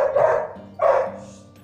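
Dogs barking nearby, two loud gruff barks in quick succession with a low hum underneath.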